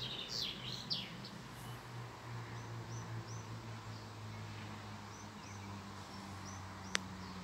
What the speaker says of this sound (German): Irgendwo da hinten sitzt das Rotkälchen da in dem Baum.